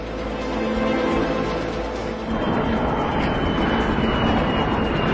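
A airplane climbing hard at about 1.8 G during a parabolic flight, a loud continuous engine and cabin roar heard from inside, shifting slightly in tone midway.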